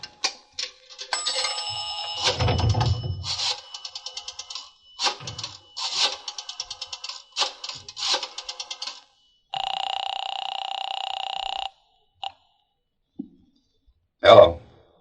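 Old-time radio sound effect of a phone call from a drugstore phone booth: a run of rotary dial clicks in bursts, then a steady electric ring tone that stops, followed by a short buzz.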